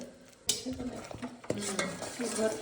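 A spoon or spatula stirs in a pan of melted ghee that sizzles and fries softly. Sharp metal scrapes and knocks against the pan come at irregular moments, close by, with no speech.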